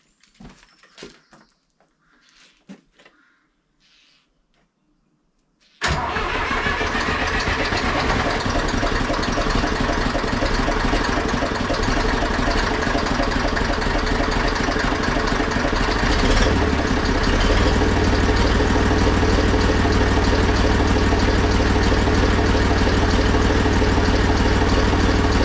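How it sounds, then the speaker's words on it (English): A Zetor 4911 tractor left sitting for over ten years cranks and fires after a few faint clicks. It catches abruptly and settles into a loud, steady diesel idle that runs on without a break. "I'm just going to fire it up again now, and we'll see how it takes off"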